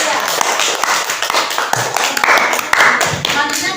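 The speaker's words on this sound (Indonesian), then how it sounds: "Terima kasih tepuk tangan untuk kelompok 3." A classroom of students claps for a group after its presentation, a short scattered burst of hand claps up close, uneven and ragged in rhythm.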